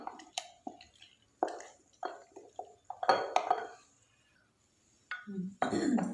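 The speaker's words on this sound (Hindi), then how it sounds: "इसको अच्छी तरह से मिक्स कर लेंगे।" Custard powder gets stirred into milk with a spoon, giving a run of close, irregular clinks and scrapes against a vessel, with pauses and a few louder clatters.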